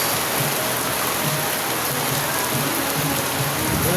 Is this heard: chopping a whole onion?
no